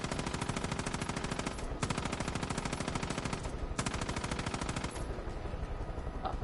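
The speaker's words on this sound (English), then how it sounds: "I used all my turret ammo" Sustained turret machine-gun fire in the video game Far Cry 5 forms a loud, dense, rapid stream of shots, nearly unbroken across the whole stretch with only a couple of brief dips.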